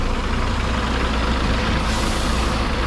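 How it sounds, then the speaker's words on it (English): A big old chichi bus in a small Jamaican garden town rumbles loudly and continuously, its heavy engine idling close by with a brief hiss of air brakes near the end. "Big old chichi bus."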